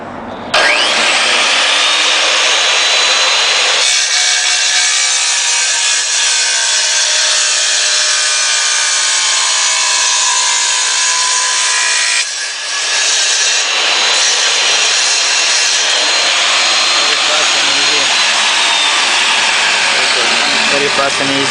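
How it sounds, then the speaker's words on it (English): A tile cutting machine slices through ceramic tile with a loud, sustained high grinding whine that drops briefly between cuts, near and continuous, with a voice talking over it. "That is tile cutting machine. Yeah, cut tile very easy,"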